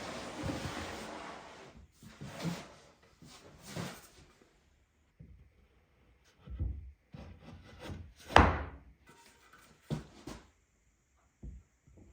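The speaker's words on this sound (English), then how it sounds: "So now I'm going to give these parts a sanding" Wood rubbing and scraping by hand in irregular bursts, with occasional knocks and a louder scraping stroke, close up in a quiet room, as lap-jointed wooden parts are hand sanded.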